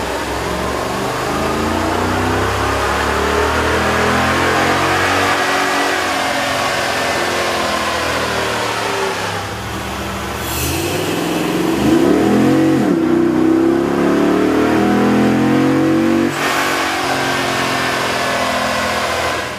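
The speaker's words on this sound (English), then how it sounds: "With the air intake installed, we ran the vehicle on the dyno to test the sound comparison versus the stock intake." A 5.7-liter pickup engine fitted with a K&N cold air intake revs on a dyno, a loud close steady drone that dips briefly, then climbs again into a strong sustained roar without any talk.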